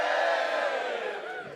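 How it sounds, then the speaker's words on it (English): A comedy theatre audience cheers and whoops in one loud burst that fades steadily over a second and a half, with no talk over it. "Oh, guys, don't cheer just yet."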